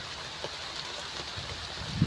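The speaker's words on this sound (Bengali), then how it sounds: "আল্লাহ একটু বৃষ্টিটা কমিয়ে দাও" Heavy rain with strong wind pours down steadily outdoors at a tree-planting spot, a dense, unbroken hiss with faint scattered drips and no voices.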